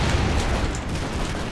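Layered explosions in the action video game Expendabros, a dense, continuous rumbling roar with heavy low booms that stays loud and steady throughout without any talking.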